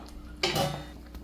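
A metal lid is lifted from a pot of fish curry with green mango and coconut milk, giving one close clank and scrape followed by a faint rattle.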